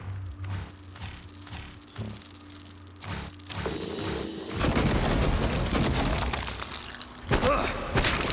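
Gunfire erupts in the sci-fi shooter Prey, beginning with scattered thumps and then breaking into a loud, dense burst of shots and crashing impacts near the end.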